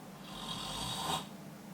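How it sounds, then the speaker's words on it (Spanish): A single close, rasping snore rises and cuts off, with a brief quiet breath after it and no talk. "Después del ronquido podemos tener una apnea."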